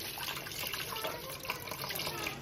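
Fish is rinsed under a running kitchen tap, giving a steady, fairly quiet rush and splash of water that lasts the whole moment without a break.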